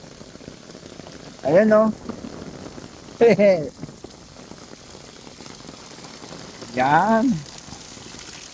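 A small waterfall rushes during a heavy Taiwan downpour, making a constant close wash of water and rain beneath three brief spoken exclamations.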